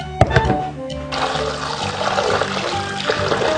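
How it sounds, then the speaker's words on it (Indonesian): Beef tripe rinsed under running water, a steady stream pouring and splashing continuously after a few brief knocks at the start. "Cuci bersih babatmu, kita cuci di air mengalir ya."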